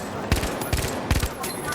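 Bursts of gunfire from a gun in The Finals, a multiplayer shooter, come in three short volleys of several rapid shots each, spaced evenly apart and fairly close.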